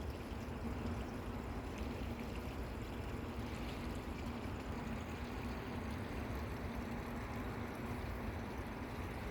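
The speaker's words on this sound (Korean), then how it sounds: "바닷물이 지금 좀 들어오고 있는 것 같아요." Seawater tide flows in at the Yellow Sea shore near Seosan and Taean in the evening. It makes a constant, even wash of water noise that is moderately loud, with no voices.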